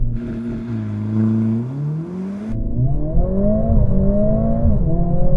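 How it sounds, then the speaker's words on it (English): A Mercedes-AMG CLA 45 S launches hard from standstill to 60 mph, its engine rising in rising revving sweeps with a gear change midway, loud and close from inside the car. "put the car into race mode, left foot on the brake, floor the throttle"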